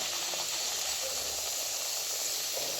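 Pea-filled kachori dough pieces hit hot oil in a wok, giving a steady, close sizzling hiss that holds evenly throughout with no talk.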